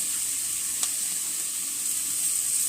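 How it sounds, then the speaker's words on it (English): Sticks of butter melting in a hot pan give a steady, soft crackling sizzle, even and continuous, with one tiny pop and no voices. "I'm going to actually use 5 of my sticks of butter. So you guys are going to see these melting down."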